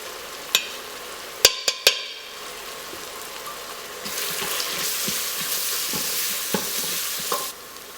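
Onions cook with salt and turmeric in an Instant Pot, with a few sharp clinks of a utensil against the pot early on, then a loud steady sizzle and stirring in the second half, without speech.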